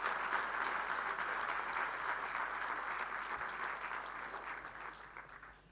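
Applause from an audience at a public talk in Dhar, a steady broadband wash of many hands clapping that holds strong for several seconds before thinning and fading toward the end, with no voices over it.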